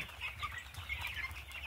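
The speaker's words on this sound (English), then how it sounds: "They're Cornish rock cross meat chickens." Cornish rock cross meat chickens, young birds outgrowing their brooder, make a steady chorus of soft clucks and chirps close by, with a low hum underneath and no voices.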